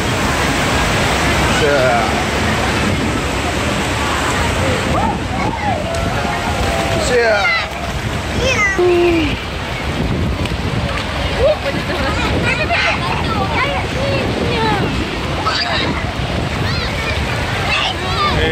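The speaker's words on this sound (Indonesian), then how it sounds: "Oke, aduh udah rasa hujannya ya. Deras sekali hujannya, ya ampun." Heavy rain pouring at an outdoor bathing pool in Aceh Besar, a dense steady roar of falling water close by, with people talking through it.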